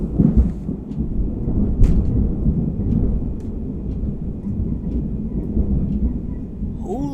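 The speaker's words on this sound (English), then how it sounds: "that was a massive thunder" Deep thunder from a real thunderstorm rolls on and on, loud and rumbling, with a sharp crackle near the start and a faint hiss of rain underneath.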